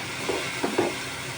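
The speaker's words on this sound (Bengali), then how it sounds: "দিয়ে এবার সব একসাথে ভেজে নেবো ভালো করে।" Spices such as turmeric, chili and cumin powder fry in oil in a pan for a kasundi fish curry, giving a steady close hiss with a few soft stirring scrapes, and no voices.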